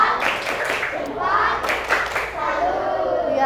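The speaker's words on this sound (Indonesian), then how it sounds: "Tepuk salut." Elementary classroom doing a rhythmic clapping routine to praise a group, patterned claps mixed with children's voices chanting along, close and lively.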